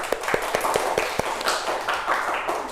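A small class of students in a microteaching session gives brief applause, a run of sharp, evenly spaced claps at moderate volume that blend into a softer scattered patter.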